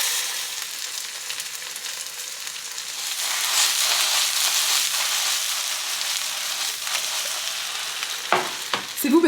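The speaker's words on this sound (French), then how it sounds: "je vais les mettre dans ma sauteuse" Homemade vegan gnocchi, drained from their cooking water, sizzle steadily in a sauté pan with a bright, even frying hiss, and a few utensil knocks sound near the end.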